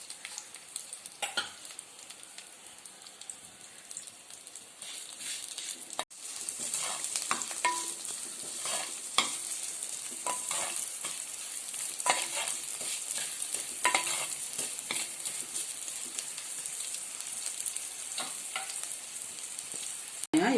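Small onions dropped into hot oil with fried fenugreek seeds, a close, crackling sizzle that jumps louder partway through, with spoon-stirring scrapes over the steady frying.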